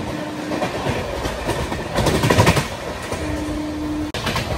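A passing train being taken for maintenance near Rani Kamalapati station rumbles by with rhythmic clickety-clack of wheels over rail joints, loud and close, swelling briefly midway with no voices.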